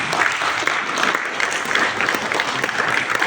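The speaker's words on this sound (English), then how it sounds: "Can you give her a round of applause, please?" Audience applause for a speaker at a STEM empowerment event opening, steady dense clapping from a crowd throughout, loud and continuous with no voices over it.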